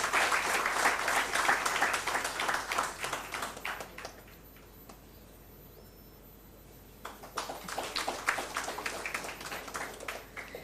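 Audience applause at a formal ceremony, dense broadband clapping that fills the hall, fades to near quiet for a few seconds in the middle, then swells again into sustained clapping to the end.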